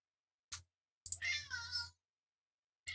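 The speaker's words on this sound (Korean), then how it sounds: "고양이가 갑자기 난입했네요" A house cat meows close by, one short chirp followed by a longer drawn-out meow and a brief start of another, with quiet in between.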